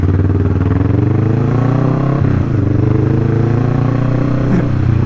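A Kawasaki Vulcan S motorcycle engine drones steadily under load climbing a hill road, its pitch creeping slowly upward with a brief dip partway through, loud and close throughout.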